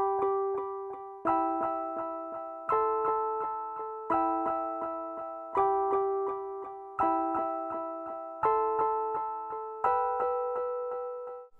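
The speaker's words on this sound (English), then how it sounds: "And just these keys sounds like this." Simple sustained keys chords in a boom bap beat with a beat delay, played alone as a loop, with eight evenly spaced chord hits that each ring out and decay before the next, clear and upfront.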